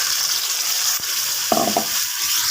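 Steady sizzling hiss of ground masala paste frying in a pan for egg masala thokku, with a brief clink and a short stirring scrape partway through.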